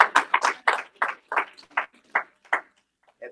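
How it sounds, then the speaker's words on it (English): A church congregation at a memorial service gives a short round of hand claps. Around a dozen crisp, separate claps land in a loose rhythm and thin out to a few faint ones before stopping. "I believe she deserves another hand clap"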